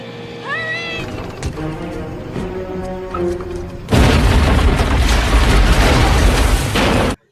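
A loud, sustained explosion from the film Anaconda (1997), with a barrier on a river being blown up. A broad roaring blast erupts about halfway through and rumbles on for several seconds after a stretch of quieter film score.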